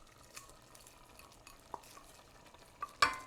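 Spoon scraping and stirring okra and canned beans in a pot of vegan gumbo, with a faint simmering hiss and a few soft clinks, ending in a sharper knock.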